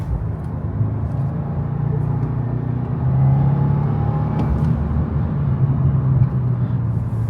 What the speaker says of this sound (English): it just has a little bit more of a distinctive feel because of that Subaru Boxer 4